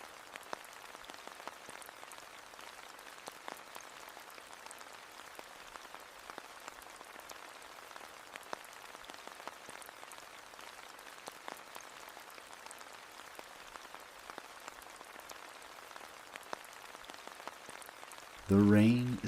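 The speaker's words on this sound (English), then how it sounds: "The rain is soft and steady. It lands on the leaves, petals, and grass around you, and collects in puddles all around you." Soft, steady rain falls on leaves, petals and grass in a flowering meadow, a faint, even patter of scattered drops continuing throughout, with a brief louder thump right at the end.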